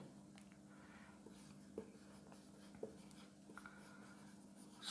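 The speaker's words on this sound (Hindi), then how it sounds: "तो यहाँ पे हम लोग लिखते हैं अब" Pen or chalk writing out math working on paper or a board, with faint scratchy strokes and a few light taps over a steady low hum, quiet and close.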